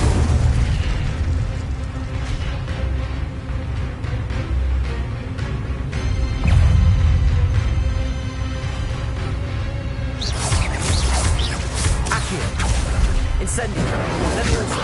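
Fiery Incendio spells cast in Hogwarts Legacy, a run of loud bursting, crackling blasts over continuous game effects and music, with a fresh burst of crackle partway through and a spoken incantation over it.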